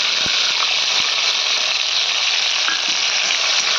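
Green chili and garlic being added to a pan of already-fried ingredients, sizzling steadily in hot oil with a constant close crackle, a few soft clinks of stirring, and no talking.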